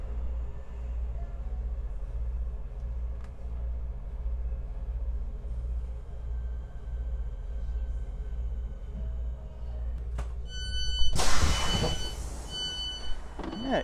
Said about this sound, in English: so I'm just gonna get back on the train.